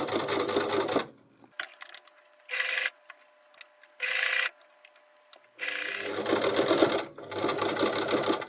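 A home sewing machine stitches fabric to make hair bands: rapid, rattling needle runs in short bursts, then a long steady stretch of stitching, close and fairly loud, with quiet handling pauses between runs.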